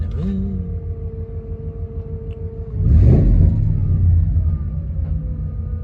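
Pickup truck engine idling with an odd intermittent noise, a low steady rumble that swells into a louder growl for a couple of seconds before settling back, heard close with faint background tones.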